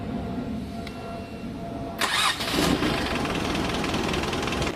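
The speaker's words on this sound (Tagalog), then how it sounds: "Pa-start ko na itong makina para mag-bleed naman ako dito sa apat na preno niya sa gulong." A Jeep Renegade engine cranks and catches about two seconds in, a short burst of starter whir followed by a rough, steady idle that settles in close and moderately loud.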